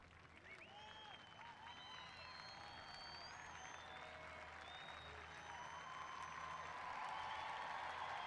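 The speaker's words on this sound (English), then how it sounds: "Great ovation for Fernandez, who scored a, uh, an important goal" Stadium crowd at a Paralympic 7-a-side football match between Argentina and USA giving an ovation to a goal scorer, a dense, steady wash of applause and cheering that swells slightly toward the end, with a commentator talking over it.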